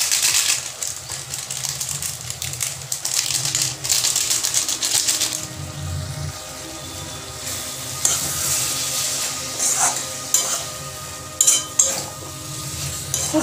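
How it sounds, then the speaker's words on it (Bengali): Pointed gourd (potol) fried earlier sautéing with sugar and garam masala in an oiled pan, a steady close sizzle broken by scraping, clattering stirs with a spatula, without speech. "পটলের সাথে মশলাটা কষিয়ে নেব"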